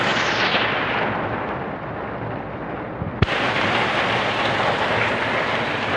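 Heavy rain pours steadily and densely close by, with a single sharp knock partway through and no voices.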